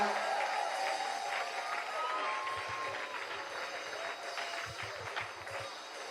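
A crowd applauds steadily throughout, a dense wash of clapping that stays fairly even in loudness from start to finish.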